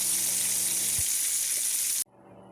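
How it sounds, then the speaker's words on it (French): Hot water tap on a boiler heating circuit runs with a steady hissing, splashing rush of water that holds for about two seconds, then stops abruptly, leaving quiet room tone. "Vous ouvrez après un robinet d'eau chaude pour enlever l'air qui est dans le circuit"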